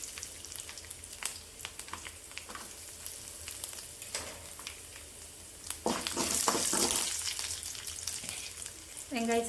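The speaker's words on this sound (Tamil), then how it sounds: "பூண்டு சின்ன சின்னதாக அறுத்து போட்டுக்கலாங்க." Small chopped garlic pieces frying in hot oil, a close crackling sizzle with occasional stirring clatters, swelling into a louder burst of spitting midway, with no talking.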